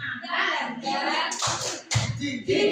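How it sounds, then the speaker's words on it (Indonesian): A group of standing adults claps through a rhythmic tepuk semangat cheer routine at a school gathering, with bursts of hand claps mixed with voices calling out in the room. "biar semangat, kita tepuk semangat ya."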